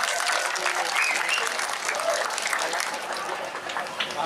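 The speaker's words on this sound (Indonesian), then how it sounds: "Tepuk tangan untuk Bapak Ibu semua" Dense, steady applause from a large audience at a formal Indonesian gathering before a sermon, with generals present, filling the whole stretch at even loudness with crowd noise mixed in.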